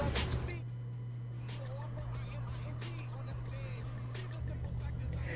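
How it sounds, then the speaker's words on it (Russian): Four-door car driving in GTA San Andreas, a steady engine drone with a low constant hum running throughout, some faint background game sounds and no clear passing peaks. "есть мой автомобиль четырехдверный"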